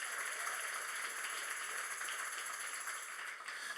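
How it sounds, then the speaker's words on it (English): A church congregation claps hands together, a dense, steady wash of applause that sounds somewhat distant and evenly sustained, with no talking over it. "you ought to clap your hands right there"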